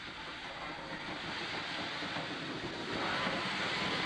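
A train gives off a steady, broad hiss of steam with a faint rumble beneath, continuous and moderately distant, swelling slightly louder near the end.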